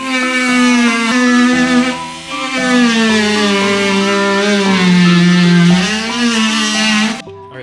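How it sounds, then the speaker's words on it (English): A rotary tool fitted with a filing bit rounds off the edge of a carbon side skirt for an A90 Supra, giving a loud, steady motor whine whose pitch sags and recovers under load for about seven seconds before cutting off. "this is my filing bit, and I'm just gonna round that off just a little bit off so that way it could clear"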